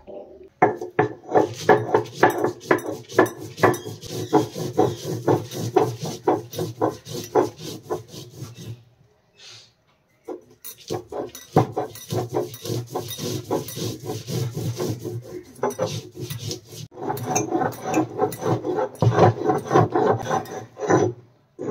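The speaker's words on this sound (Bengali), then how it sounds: "এবার এগুলো শিলে পিষে নেব।" Mustard paste being ground on a stone shil-nora slab, a loud rhythmic rasping scrape repeated back and forth, pausing briefly about halfway before the strokes resume.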